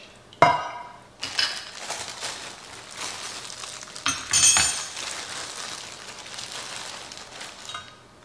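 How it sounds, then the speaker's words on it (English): A jar of homemade enchilada sauce is opened and poured into a dish, giving a sharp lid pop followed by glassy clinks, scraping and wet pouring sounds close by in a kitchen. "I'm gonna start by opening a jar of our homemade enchilada sauce."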